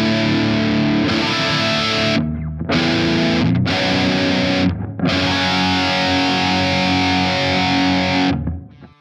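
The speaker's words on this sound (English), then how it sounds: "Then you can't have so much distortion in your sound." Heavily distorted electric guitar run through Bias FX amp modelling plays dense, sustained chords in several loud bursts broken by short silent gaps, with no voices.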